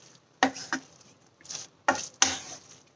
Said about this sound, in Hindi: और हम सारी चीजों को अच्छी तरह से मिक्स कर देंगे